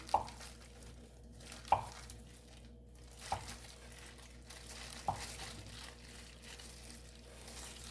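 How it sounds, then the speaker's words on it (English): A clean knife slices a block of butter into half-centimetre pieces, making four soft, evenly spaced taps on the board about every one and a half seconds, quiet and close. "Clean knife. And we're going to slice them into 1/2 centimetre pieces."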